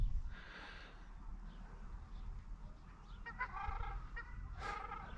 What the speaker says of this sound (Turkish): Ördeklere bakın.